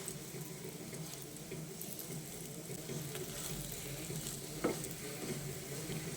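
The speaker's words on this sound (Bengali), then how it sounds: "এইভাবে আরও দু একবার উল্টে পাল্টে বেগুনটাকে ভেজে নিতে হবে।" Eggplant slices fry in oil in a pan, giving a steady, soft crackling sizzle with scattered pops that runs on evenly without talk.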